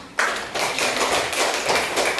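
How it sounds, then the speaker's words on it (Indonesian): Schoolchildren at an elementary school in Budakeling clap together in a classroom, a dense, steady burst of applause with rhythmic surges of tapping, close and fairly loud throughout. "Tepuk tangan."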